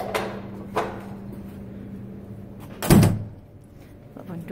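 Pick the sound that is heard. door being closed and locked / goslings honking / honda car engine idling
door being closed and locked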